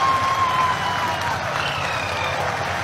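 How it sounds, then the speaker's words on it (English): Crowd applause during an ISRO moon landing broadcast, a dense continuous patter of clapping heard as a steady wash of sound, with a faint tone running through the first second. "People are applauding."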